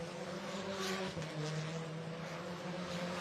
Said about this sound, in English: The streets at Villarreal reverberate to the sound of a Kumho FIA TCR World Tour touring car